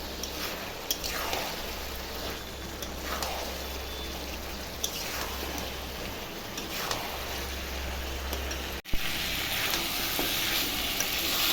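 Chicken curry meat and potatoes sizzle steadily in a hot pan as they are stirred and browned, with periodic scraping strokes from a spatula over a constant frying hiss and one sharp knock near the end.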